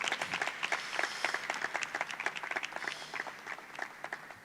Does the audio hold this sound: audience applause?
yes